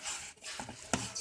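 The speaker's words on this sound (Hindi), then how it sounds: "हाथ से मिक्स करेंगे।" A vegetable noodle ball mixture is squished and worked by hand in a bowl, giving soft, faint, close rubbing and squelching with a few brief sticky pops, and no one speaks.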